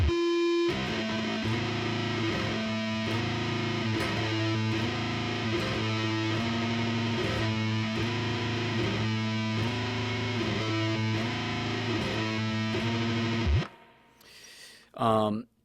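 A Catalinbread Teaser Stallion distortion pedal in self-oscillation makes electric guitar drone with buzzing, shifting overtones, pulsing steadily for many seconds before cutting off abruptly, followed by a couple of brief bursts.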